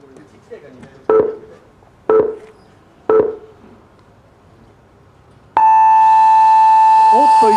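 Start signal at a Tamiya Challenge Cup M-class RC car race final at Kimitsu Pit-In: three short, loud beeps about a second apart, then a long, sustained higher tone that holds to the end.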